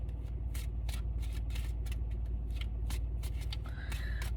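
Cards are shuffled in quick repeated riffles, a soft papery patter over a constant low electrical hum, with a faint whine near the end.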